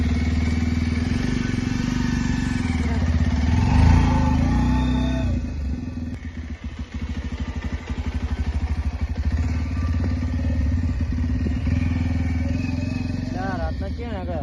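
A motorcycle engine catches and settles into a steady, close low rumble with some mechanical clatter, while people talk over it throughout.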